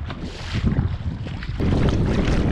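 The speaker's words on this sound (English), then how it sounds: "the waves are big and the wind's kind of picking up" On a big lake, waves churn and slap in a close, constant rush while strong wind buffets the microphone, the roar thickening toward the end, with no talk.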